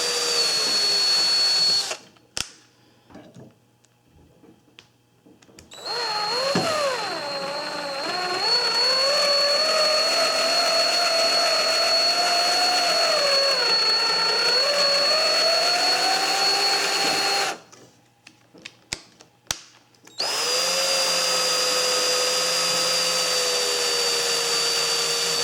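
A power drill taps M3 threads into an aluminum extrusion for a custom 3D printer, giving a loud sustained whine that rises and wavers, cuts out briefly, then returns fast in reverse to clean the thread.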